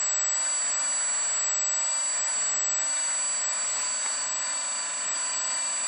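Continuous high-pitched electric whine of the small hydraulic pump and cylinders retracting on a 1/14-scale Fury Bear 2+5 axle RC lifting trailer, steady and fairly close, with no talking.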